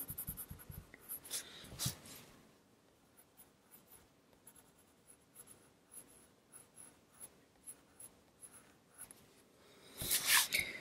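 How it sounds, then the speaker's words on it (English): Black pencil shading on paper, a soft scratchy scraping that comes in short repeated strokes of varying loudness, close up, with a louder burst of rubbing near the end. "A little darker here, so another layer of the black pencil."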